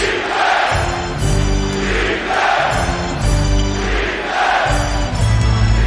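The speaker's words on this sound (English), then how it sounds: "this crowd so into the game in the first couple of minutes" An NBA arena crowd roars at a Miami Heat versus New York Knicks regular-season game, a loud, dense wall of cheering that swells and ebbs in waves, with low rumbling tones and no clear talk on top.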